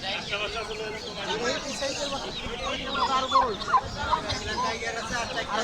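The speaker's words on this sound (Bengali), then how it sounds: "বিগ সাইজের আরেকটা টার্কি মোরগ দেখতে পাচ্ছি আমরা" A large turkey gobbles and clucks among other poultry at a busy bird market in Mirpur, with several short calls rising over crowd noise while someone talks over them.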